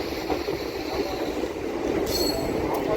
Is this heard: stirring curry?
no